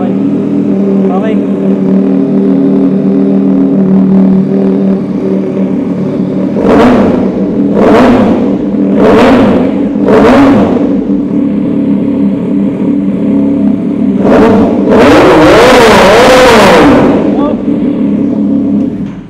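Several superbikes, including a Yamaha Tracer 9 GT, rev together in a New Year rev bomb. A steady idle rumbles underneath, four sharp revs come in sequence, then a longer combined roar builds, while people talk nearby.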